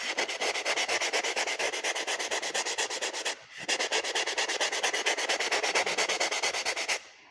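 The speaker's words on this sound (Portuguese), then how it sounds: "eu começo a lixar de cima para baixo, depois de baixo para cima" Sandpaper scrubs a styrofoam cake dummy in fast, even strokes, a close, loud rasping rhythm that pauses briefly halfway through, then resumes and stops near the end.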